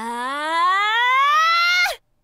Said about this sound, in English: I love that anime scream.